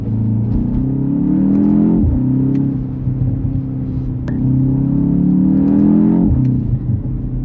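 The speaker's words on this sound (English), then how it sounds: "Yeah, those are fake pops. Officially fake. I heard them coming through the speakers." A 2025 BMW X2 M35i accelerates with a steady, loud engine drone rising in pitch through two gear changes, with synthetic exhaust pops played through the cabin speakers; no one talks.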